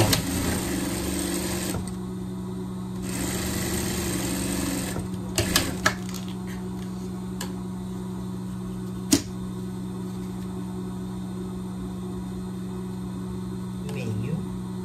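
A sewing machine stitching a safety seam on a pet jacket, in short bursts of steady mechanical whirring alongside a constant hum, with a person talking over and between the runs.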